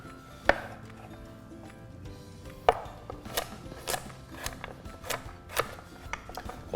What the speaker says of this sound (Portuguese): E aí você corta ele em pedaços pequenos